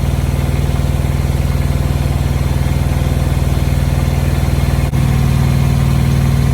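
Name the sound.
Tripac Evolution AC system compressor clutch engaging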